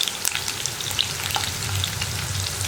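Crispy spicy chicken pieces frying in a pan of oil as they are turned over, a dense continuous sizzle with light scraping stir sounds, close and fairly loud, with no talking.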